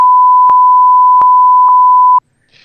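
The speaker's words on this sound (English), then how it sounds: "So after those series of beeps," A series of five loud, pure censor beeps blending into one steady tone for about two seconds, then a cut to near silence with faint sound at the end.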